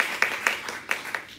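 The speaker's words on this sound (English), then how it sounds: "And the students in the room clap because we know it's true." A small scattering of students applauding in a room at a university PhD dissertation defense, a handful of sharp, close claps with uneven spacing that fades quickly.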